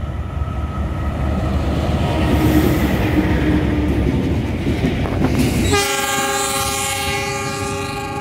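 A freight train of tank cars arrives at Kroya Station, rumbling and clattering close by, then a loud sustained horn blast sounds over the rolling wheels.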